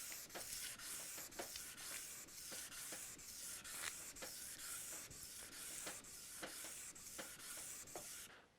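Fine 800 grit sandpaper swipes back and forth over a wooden Telecaster fretboard in quick, even strokes, about fifteen soft hissing rubs at a steady pace, close and fairly quiet with no speech.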